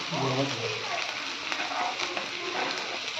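Chilies, onion and garlic sizzle steadily in hot oil on a griddle, a close, even frying hiss with faint stirring noises.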